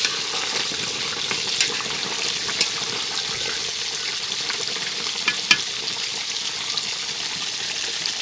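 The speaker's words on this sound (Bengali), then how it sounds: "এই সুযোগে আমি একটু খুন্তি নাড়ছি।" A spatula stirs beef curry in a pan, giving a continuous sizzling hiss with a few sharp metal scrapes and clicks at intervals, close up and with no talking.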